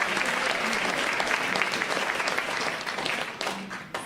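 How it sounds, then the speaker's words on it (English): A hall audience at a Martin Luther King Day event gives a full, steady round of applause, dense and continuous clapping that fades slightly at the end. "by all means, round of applause."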